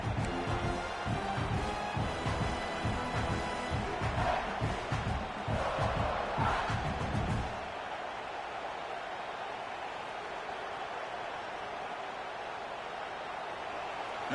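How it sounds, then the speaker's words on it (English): A packed stadium crowd at a South Carolina vs Kansas State football game roars loudly and steadily for about seven seconds, then drops to a lower, more distant murmur. "listen to this crowd noise. This stadium is vibrating."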